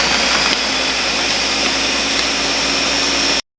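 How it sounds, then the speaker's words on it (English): A countertop blender runs steadily at high speed, blending a milkshake of ice cream and fruit, a loud constant whirring drone that stops abruptly at the end, with no talking. "If you put your elbow on the counter and the blender's blending, the counter vibrates"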